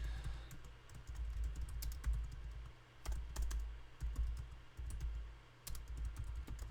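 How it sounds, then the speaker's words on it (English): Steady keyboard typing with rapid clicks and short pauses, close to the microphone over a low hum, with no talking. "I'm typing terribly."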